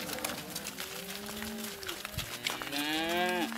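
Cattle moo repeatedly in a sorting pasture during a fall gather, several long drawn-out calls from more than one animal, the last one loud and close, over quiet outdoor background.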